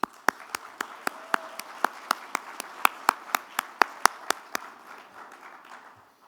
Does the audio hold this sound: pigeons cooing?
no